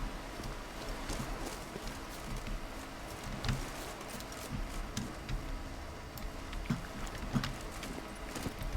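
Roach, the horse in The Witcher 3, gallops in a steady stream of hoofbeats over a continuous bed of ambient game noise, with occasional louder clops standing out and no one talking.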